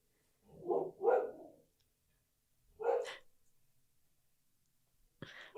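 A dog barks in two separate bursts, a double bark followed by a single one, fairly close and loud against a quiet room, with a brief noise at the end.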